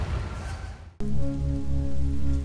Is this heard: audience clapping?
no